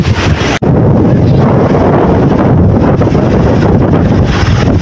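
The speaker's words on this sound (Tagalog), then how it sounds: "Lakas ng hangin." Strong wind roars into the microphone near windmills in Ilocos Norte, a loud, constant buffeting rumble with a brief dropout early on.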